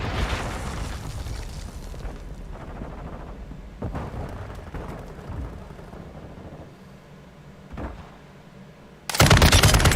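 Call of Duty: Modern Warfare II combat rattles with sustained automatic gunfire, scattered single shots and booming explosions, dense and loud throughout, ending with a sudden heavy blast.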